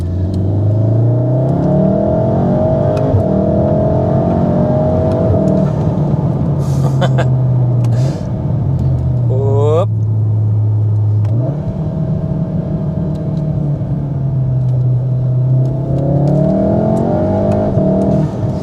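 A Mountune-tuned VW Mk7.5 Golf R, four-wheel drive, accelerating hard with a steady loud engine drone that rises and falls through gear changes, close and continuous with a brief whine in the middle.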